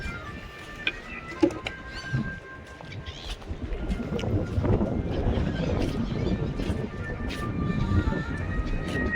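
A tourist boat on the water at Bet Dwarka, a continuous low engine rumble that grows steadier over time, with wind noise and a few sharp knocks near the start.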